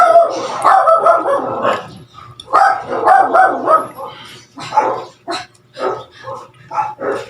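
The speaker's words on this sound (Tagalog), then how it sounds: "Ingay ng mga aso." Several dogs bark and yip close by in a noisy, overlapping run of bursts, with whimpers mixed in and a person's voice coming through between them.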